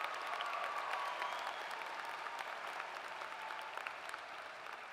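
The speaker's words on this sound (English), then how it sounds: "Let's give them one round of applause for their performances" An audience at a high school graduation applauds the choir and band performances, a sustained wash of many hands clapping at moderate distance, steady and even from start to finish.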